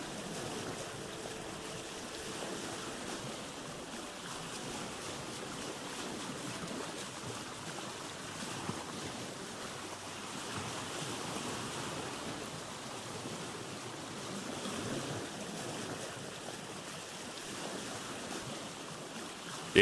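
A boat glides through salt water in the game Vintage Story, a steady, faint wash of water and wind noise that continues evenly without talk for the whole stretch.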